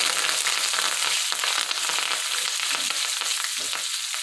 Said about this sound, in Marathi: आता कडीपत्ता चांगला तडतडला आहे